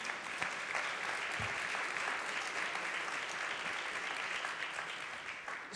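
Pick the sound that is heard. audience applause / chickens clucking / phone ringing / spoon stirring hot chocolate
audience applause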